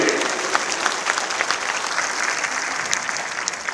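Sustained applause from a large congregation inside St. Mary's Basilica in Shivajinagar, Bengaluru, during the feast of St. Mary, steady and dense clapping filling the church throughout with no break.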